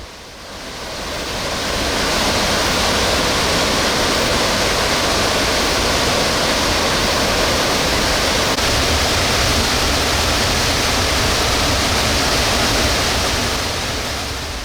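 A roaring waterfall beside Yongchusa temple pours a huge volume of water, a dense, unbroken white-noise thunder that stays loud and steady throughout with no other sounds.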